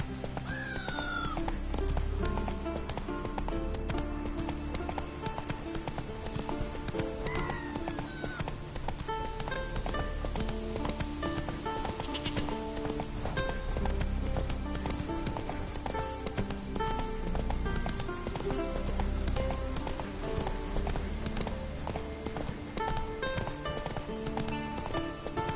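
Roach the horse galloping in The Witcher 3, steady rhythmic hoofbeats running continuously beneath an ongoing music score, with occasional faint game effects and no speech.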